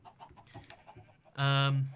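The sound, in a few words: chickens clucking on a video game farm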